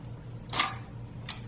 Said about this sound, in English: You squeeze the trigger and it releases the shutter.